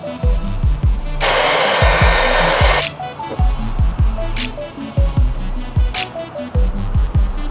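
A heat gun warms vinyl pinstripe wrap on a Corvette Z06 front grille, one loud steady blowing roar of nearly two seconds plus shorter bursts, set against a beat of thumping background music.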